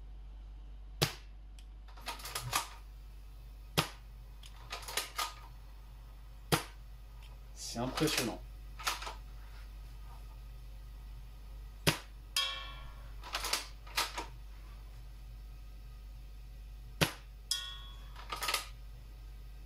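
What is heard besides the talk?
suppressed KJW M700 gas airsoft sniper rifle shots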